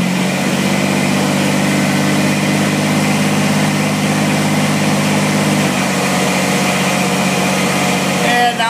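A Kubota BX2370 compact tractor engine runs steadily close by, its mid-pitched drone holding even before easing slightly lower partway through, with a brief rattle at the end.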